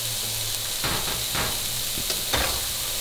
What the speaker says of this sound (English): I went ahead and put the carrot in there, let it sizzle for a while